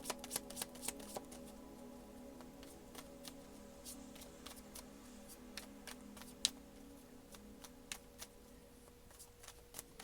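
Tarot deck being shuffled by hand: a run of crisp, close card riffles and flicks in a quiet room, repeated in quick irregular bursts with no talking.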